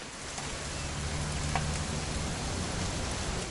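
Steady hiss of heavy rain falling in a video game, continuous and even throughout with a low rumbling undertone, no voices.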